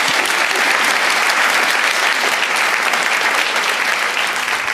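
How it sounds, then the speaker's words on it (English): Loud, sustained audience applause for a panel of guests at an evening celebration event, a dense wash of many hands clapping steadily throughout with no speech. "Please give our panellists a warm round of applause"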